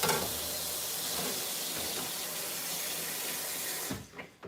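Produce rinsed under a running kitchen tap, a steady close rush of water for about four seconds before the flow cuts off.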